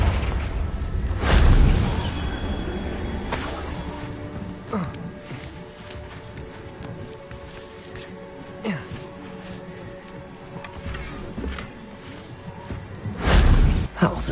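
A Confringo spell explodes in a game, a sudden low boom with a crackling burst, followed by quieter rumbling and scattered impacts, then another blast near the end, with speech in between.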